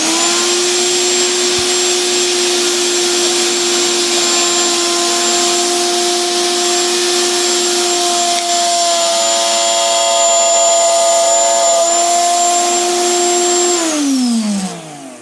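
A router cutting a 2-inch mortise into wood gives a loud, steady, high-pitched motor whine that holds constant for about fourteen seconds, then drops in pitch as the machine spins down at the end.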